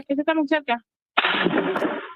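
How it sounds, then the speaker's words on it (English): A quick burst of gunshots recorded on a phone outside an ICE facility in Dallas, a dense crackling volley of overlapping reports lasting about a second, loud and close, following a short stretch of talk. "A woman was recording on her phone near the facility when gunshots were heard."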